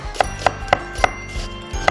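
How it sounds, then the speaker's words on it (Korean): Onion being sliced into thin strips with a knife on a wooden cutting board, crisp evenly spaced knocks about every quarter second, close and clear with no talking. "양파 채 썰어서 준비해 놓으시고요"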